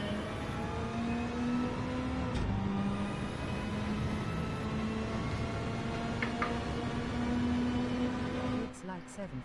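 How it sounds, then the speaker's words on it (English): Car engine in a Daytona time-trial racing game, holding a steady high-revving drone near the limiter under continuous voice chatter, with a brief gear-shift dip near the end. "So I do think you've got to rev this out."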